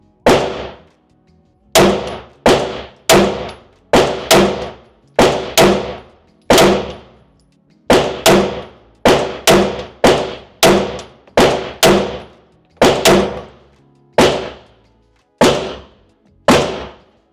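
Rapid pistol shots from a Smith & Wesson M&P 2.0 firing 124 grain rounds ring off steel targets, about two dozen sharp cracks with metallic clangs at a steady, fairly even pace, loud and close.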